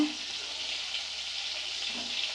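Prawns sizzle steadily in hot oil in a pan, a dense, even crackling hiss that holds close and constant throughout, with no voices.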